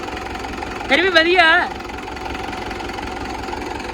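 A tractor engine idles with a steady low rumble while someone briefly speaks over it.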